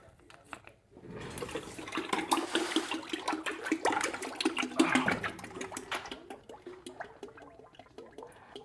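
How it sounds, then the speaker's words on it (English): Air gurgles and bubbles out of a Maserati rear axle as it is filled with fluid, a continuous close watery churning that builds and then tapers off over several seconds. "Oh, you can literally hear the air coming out of it."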